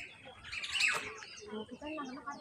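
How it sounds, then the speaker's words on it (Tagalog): A bird calling in a Hong Kong wetland park, a few bright chirps and tweets at moderate distance, with faint voices and outdoor ambience underneath. "Ayun, ibon."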